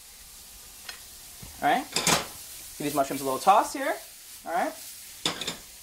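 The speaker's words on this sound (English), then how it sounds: "Give these mushrooms a little toss here." Mushrooms tossed in a hot pan for bruschetta, giving short bursts of sizzle and clattering pan scrapes between pauses, close by, with someone talking over them.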